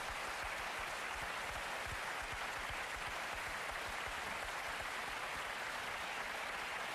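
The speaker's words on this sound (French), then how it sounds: "Je crois que vous pouvez l'applaudir." Studio audience applauding Damon Albarn on a French television show, a steady, dense wash of clapping heard at a distance and fairly quiet, lasting about seven seconds without voices.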